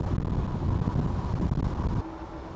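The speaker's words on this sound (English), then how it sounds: "boy, it's real windy out going this way, so I'm gonna have to pick and choose when I record" Steady, loud wind buffeting a microphone while cycling, a low rumbling roar that drops off abruptly near the end.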